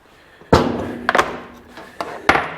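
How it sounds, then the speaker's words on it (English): Several sharp metallic-sounding thuds as a hammer strikes an impact driver during a Kawasaki KX250F engine teardown, a hard strike followed by a quick pair and a final blow, close and loud with brief ringing decay. "Let's grab our impact driver. Put that in there. Give it a good couple smacks."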